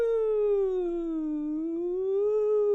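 A single voice imitates an ambulance siren, a smooth sustained wail sliding down in pitch and then back up.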